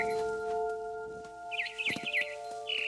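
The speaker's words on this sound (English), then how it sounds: "Then I heard chirping outside my window. It was a barn swallow going back to her nest." A barn swallow chirps in a video game scene, with a run of quick, bright warbling calls that come in bursts over a steady musical drone, fairly close and moderately loud.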